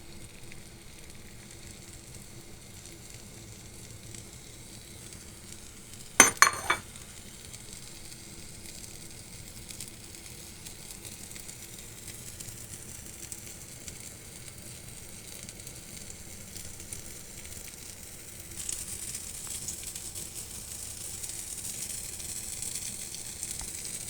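Eggplant frying in a pan gives a faint, steady sizzle, broken early by a brief loud clatter, with the hiss growing somewhat louder and brighter toward the end.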